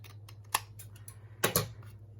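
Scissors snip the white edge off a paper page spread in a crafting journal, giving a few short sharp cuts: one isolated snip, then a close double snip, near and fairly quiet over a low steady hum.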